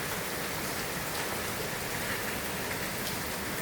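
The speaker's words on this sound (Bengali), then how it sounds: "আর এই রিসোর্টের উপরে এরকম টিনের শেড করা আছে, তার মধ্যে দিয়ে বৃষ্টি পড়ছে।" Steady, dense rain drums on a tin shed roof at a riverside resort in Udupi in the morning, a close, even hiss with a constant patter and no pauses.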